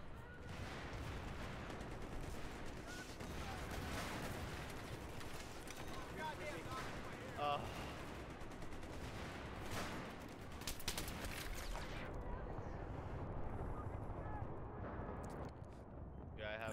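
RPG fire and grenade blasts in Battlefield 3: a continuous dense wash of explosions and gunfire, loud throughout and dropping off near the end, with people talking over it.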